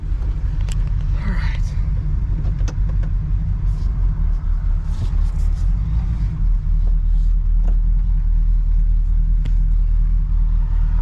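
A 1979 Chevrolet El Camino SS engine idles with a loud, steady low rumble and slight unevenness, close by, with faint background clatter and no one talking.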